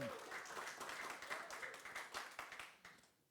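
A church congregation applauds with steady clapping that fades out toward the end, with a voice faintly underneath.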